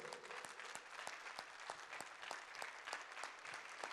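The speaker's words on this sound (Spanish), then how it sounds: "Yo quiero pedir a todos los presentes un aplauso para ustedes." An assembly audience breaks into applause, dense clapping from a large crowd that stays steady and moderately loud, with sharper individual claps standing out in a regular pulse throughout.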